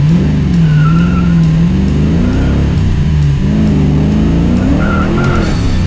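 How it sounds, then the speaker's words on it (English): A car with a roller rocker mod accelerating hard on a test drive, its engine rising and falling in pitch as it pulls through the gears, loud and continuous throughout. "All right, let's go take this for a ride."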